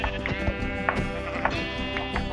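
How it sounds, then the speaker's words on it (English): Sheep in the video game Minecraft bleat in a loud, close, wavering game sound that repeats in quick succession over a short stretch. "Okay, sheep."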